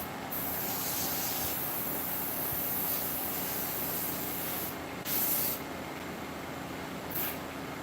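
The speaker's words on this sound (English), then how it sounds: "this airbrush got to be working pretty good when it was completely clogged earlier" Paasche H airbrush spraying ink, a steady close airy hiss with a couple of brief louder bursts of spray.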